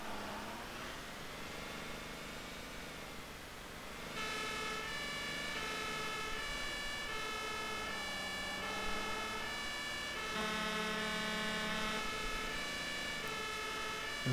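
Fire engine siren wailing on an emergency run in the game Notruf 112, rising and falling tones over a low engine drone, steady and continuous, getting stronger partway through.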